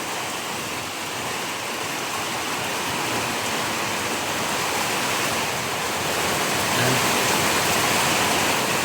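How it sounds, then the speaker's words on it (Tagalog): Heavy rain pours down steadily in a broad, constant hiss, with gusting wind swelling slightly louder toward the end; no voices, only the dense roar of the downpour close by. "Lakas ng ulan"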